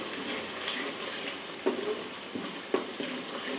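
Spoonfuls of yogurt sizzling and frying in a pan of chicken kofta curry masala with tomatoes, a steady soft crackle broken by a few louder stirring knocks, close and alone without talk.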